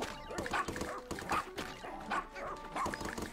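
Dog barking in the video game Pikmin 4: a run of short yips and barks repeats in a steady, bouncy rhythm over light game music, moderately near with faint talk underneath.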